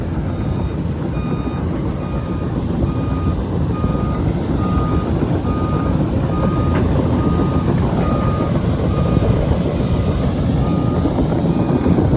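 Two SANY excavators race each other on tracks, producing a loud, continuous heavy-machinery rumble with steady repeating reversing-style warning beeps over it throughout.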